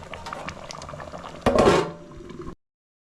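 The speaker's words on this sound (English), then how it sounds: "Just give it like 2 minutes to simmer and it will be ready." Kenyan githeri with potatoes and beef stew simmers in a pot, giving a soft bubbling crackle close by, with a brief louder clatter of utensils before it cuts to silence.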